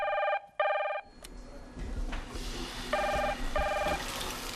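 A telephone rings with a trilling electronic bell: two loud rings close together, then a pause with room noise, followed by two more rings that are slightly quieter.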